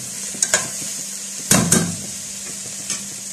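Cardamom pods and mastic sizzling in oil in a pot while being stirred, with a soft continuous fry and a few scraping knocks of the spoon against the pot, close and without talking.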